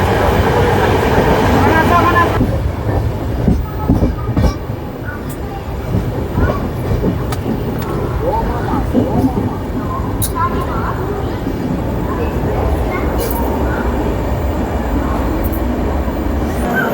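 The Shri Jagannath Express, train 18409 from Kolkata to Puri, runs along the line in Odisha with a loud, steady rumble and rattle heard from inside the coach and intermittent clacks. A voice speaks over it at the start.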